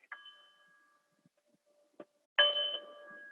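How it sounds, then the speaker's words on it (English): A soft bell tone fades out, then after a faint tap a second, brighter bell strikes and rings on with a long shimmering decay. "I'm gonna ring 2 bells."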